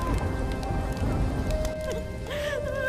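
Heavy rain falls steadily on a village at night, a dense continuous patter with a low rumble underneath, while a faint tonal wail rises briefly toward the end.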